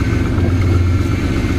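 A car engine idles steadily and close by, a low continuous rumble with no change in pitch; the check engine light is on, the power steering whines slightly, and the car has 252,000 miles.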